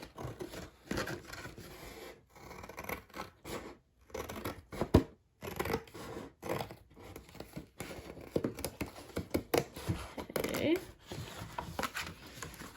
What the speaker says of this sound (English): So we're just going to cut all of the bottom flaps off.